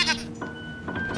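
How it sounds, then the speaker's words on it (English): A sheep bleats indoors in a lounge room, a short wavering cry heard twice close by, with a faint steady tone in the background. "There's a sheep in your lounge room."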